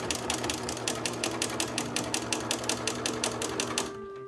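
A sewing machine stitches a patch pocket in a steady, rapid run of close mechanical clicks that stops abruptly near the end, with no voices.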